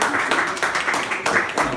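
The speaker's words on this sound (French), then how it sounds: "Alors on l'applaudit très fort parce qu'elle va tirer les lots" Audience applause for winemaker Magdalena at a spring wine-game event, a continuous dense patter of clapping lasting the whole moment, with a voice faintly mixed in.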